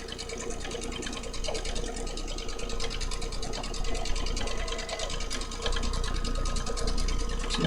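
A domestic sewing machine runs steadily while free-motion quilting loops, a fast, even mechanical whirr with rapid needle ticking that holds for the whole stretch and gets slightly louder near the end.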